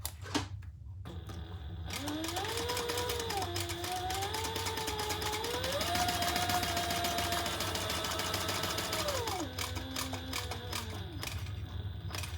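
A sewing machine stitching bag panels together at the seam for an OMA bag, running steadily for several seconds with a whirring motor whose pitch rises and falls. It starts and stops cleanly, with no talk.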